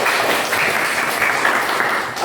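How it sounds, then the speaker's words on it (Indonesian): A classroom of students claps together in a dense, steady burst of applause that holds loud and even for a couple of seconds. "Tepuk tangan untuk Lia."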